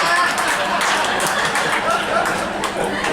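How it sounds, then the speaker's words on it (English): A few audience members at a comedy show clap sparsely and unevenly for about three seconds, a thin patter that never builds into full applause, with faint crowd murmur underneath. "I'd like to thank 4 people for trying to start a round of applause"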